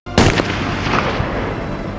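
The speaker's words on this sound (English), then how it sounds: "The sound of gunfire marks another death" A single loud gunshot cracks close by and booms out into a long rolling echo that fades slowly, with no voices over it.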